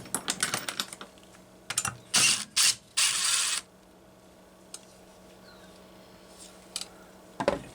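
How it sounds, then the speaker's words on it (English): Starter pawls come off a Homelite C-72 chainsaw with close, sharp mechanical clicks and a few short ratcheting bursts, separated by quiet gaps. "Get these starter pawls out of the way so we can use those holes for the puller."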